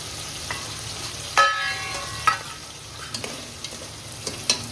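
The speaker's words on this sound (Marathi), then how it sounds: "त्यानंतर बटाट्याला थोडं तेलामध्ये फ्राय होऊन द्यायचं." Potatoes fry in oil in a pan, giving a quiet steady sizzle broken by several distinct spoon clinks and scrapes against the metal, spaced unevenly throughout, with no one speaking.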